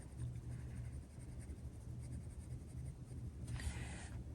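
A colored pencil shading brown leaves in a coloring book gives a steady, close scratchy rasp that runs continuously, with a brighter burst of strokes near the end.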